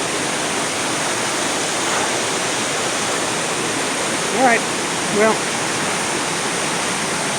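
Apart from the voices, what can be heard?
river water rushing over Class 5/6 rapids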